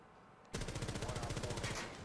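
Automatic gunfire in Rainbow Six Siege: a rapid, steady burst of shots starts abruptly after a short quiet stretch and keeps going, loud and close, to the end.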